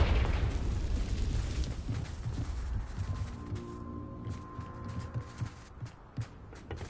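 A Confringo blasting spell explodes in the video game Hogwarts Legacy, giving a loud burst with a rumbling tail that slowly fades under lingering game ambience and a faint tonal hum.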